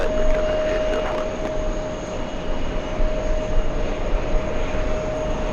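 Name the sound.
Lufthansa Airbus A340-300 jet aircraft from Frankfurt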